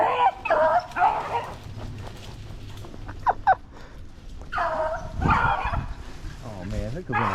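Beagles on a rabbit hunt in Pennsylvania give several excited barks and yips in short bursts, fairly close, mixed with a person talking and some whimpering.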